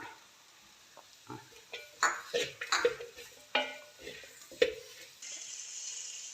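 Beans and capsicum stir-fried in a pan for noodles: soft scraping and clinking of a utensil in a scattered rhythm, with light sizzling and a faint steady hiss near the end, close but quiet.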